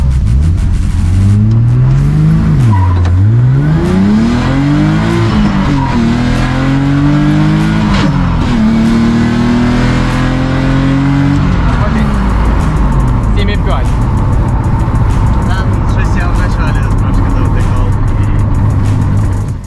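Two BMWs, an M3 3.2 and an M50 B30 stroker, launch side by side at a drag race, engines revving hard with rising and falling gear-change sweeps before settling into a loud, steady drone.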